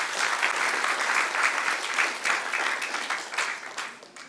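Applause from a church congregation, a dense sustained clapping that fills the room throughout and tapers slightly toward the end.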